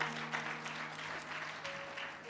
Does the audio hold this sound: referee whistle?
no